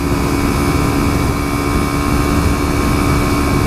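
A Kawasaki Ninja 300 motorcycle cruises in sixth gear at 80 mph on a Los Angeles freeway, its engine holding a steady, loud, high-revving drone near 9,000 rpm, mixed with constant rushing wind noise.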